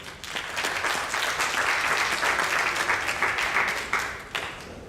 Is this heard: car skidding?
no